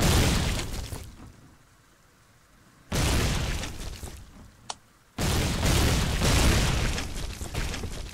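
Heavy mortar blasts in the Foxhole war game land close by, each a loud, broad boom followed by a rumbling roar that trails off, with two main impacts several seconds apart and a sharp pop between them.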